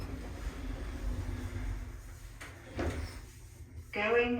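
The doors of a Pickering lift slide shut, heard as a low mechanical rumble with a couple of soft thuds inside the lift car. A synthesized voice announcement starts just at the end.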